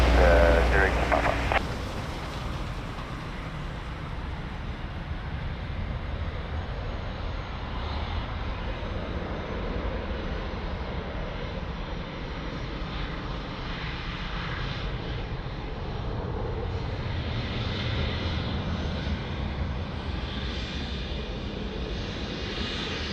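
An airplane takes off at Lisbon Airport, its engine roar a steady, distant rumble that swells gently over the length, with no talk over it after a brief noise at the start.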